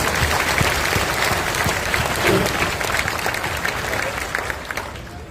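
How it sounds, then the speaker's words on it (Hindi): A large audience claps loudly and steadily, a dense wash of many hands that holds for several seconds and slowly thins toward the end, with faint crowd murmur beneath. "अपने लिए जोरदार ताली बजाइए।"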